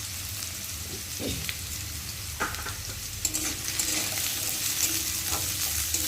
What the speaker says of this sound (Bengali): আলুটা একটু ভালো করে ভেজে নেব